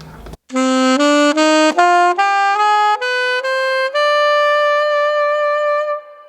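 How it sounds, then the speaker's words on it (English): An alto saxophone plays a stepwise ascending harmonic minor scale, each note held briefly and evenly, clear and close, with no other sounds. "So let's hear what that sounds like on an alto saxophone."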